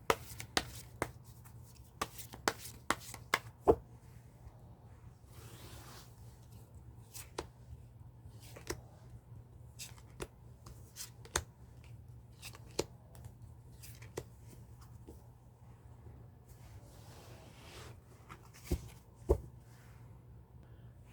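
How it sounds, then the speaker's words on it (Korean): Tarot cards being shuffled by hand: a quiet run of sharp riffles and soft slaps spread irregularly across the whole stretch, with brief louder snaps, over a low steady room hum and no talking. "이렇게 셔플은 끝났습니다."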